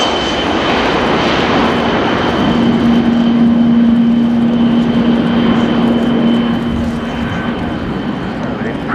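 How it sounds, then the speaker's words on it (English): Kawasaki P-1 maritime patrol jet making a short takeoff, a loud steady engine roar with a sustained low drone building through the middle then holding, speech faintly mixed in. "Impressively short takeoff there from the P-1"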